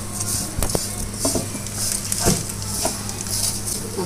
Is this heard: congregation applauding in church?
no